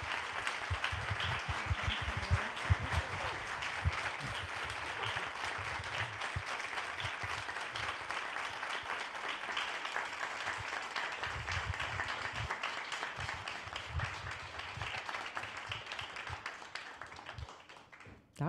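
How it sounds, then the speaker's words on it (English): Sustained audience applause for the evening's speakers at a community event, a dense steady wash of many hands clapping that holds for nearly twenty seconds before cutting off. "I just want to extend and hope all of you would extend an applause for all of our speakers tonight"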